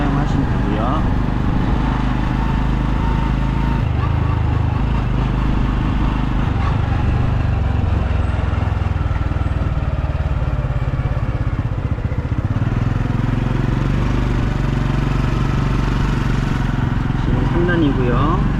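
A Honda Super Cub motorcycle engine drones steadily up close while the rider shifts up into third gear, a continuous buzzing hum with slight changes in tone.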